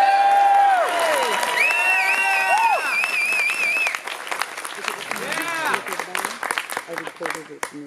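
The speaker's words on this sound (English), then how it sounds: "we would really appreciate a big applause." A conference audience at CSICon 2018 bursts into loud applause with whoops and cheering voices, strongest at first and then thinning into scattered claps and chatter.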